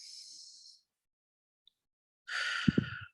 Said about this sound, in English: take some deep breaths. Just do a couple of those. In through your nose, out through your mouth.